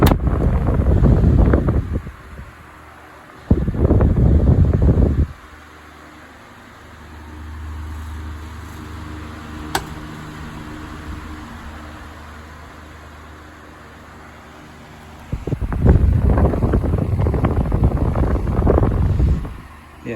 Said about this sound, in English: It has a really focused wind stream, like right down the center.